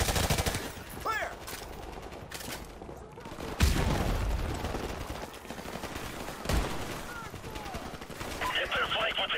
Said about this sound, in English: Hit their flank with their machine gun.